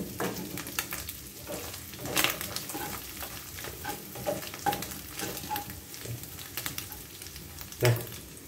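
Anchovies fry and sizzle steadily in a pan of oil, a dense close crackle with occasional stirring scrapes and louder pops, no voice over it.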